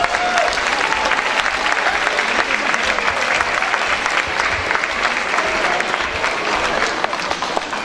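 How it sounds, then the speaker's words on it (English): Sustained, dense applause from a school assembly audience welcoming student council officers onstage at a DECA awards event, steady and loud throughout with scattered claps standing out. "And let's give them a round of applause."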